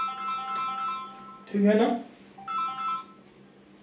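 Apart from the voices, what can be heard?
phone ringing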